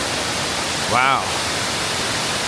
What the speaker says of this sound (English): you can dine next to this giant waterfall